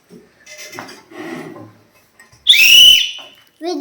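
A whistle is blown once, a loud, piercing burst in the middle, during a classroom sound-guessing activity. Softer clinking and rustling come before it, and a short further sound follows.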